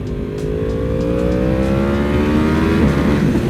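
Yamaha R1M sport motorcycle engine revving up, a loud, close, continuous rising roar that climbs steadily in pitch over a few seconds with no talking.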